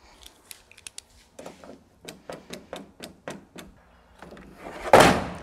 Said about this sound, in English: We're going to start by removing the 8 factory screws along the top half of the tailgate.